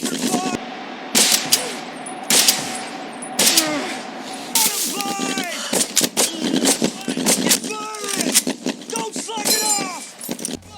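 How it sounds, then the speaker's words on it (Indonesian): Battle scene from a World War II war film with bursts of gunfire and mortar fire trading back and forth, sharp loud shots in rapid clusters, overlaid by narration and shouted voices throughout. "Nggak mau kalah, barisan mortar isi company segera membalas. Jual beli tembakan pun terjadi."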